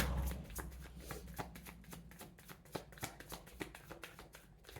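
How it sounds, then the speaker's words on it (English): Cards riffle and snap in a quick, crisp rhythm close to the mic, a steady flurry of shuffling with no talk. "I hear one more shuffle ahead."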